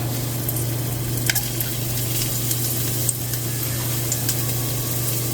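Two small pieces of garlic fry in a pot of oil for Jamaican curry goat, giving a steady, close sizzle with light crackles and a few sharp pops throughout.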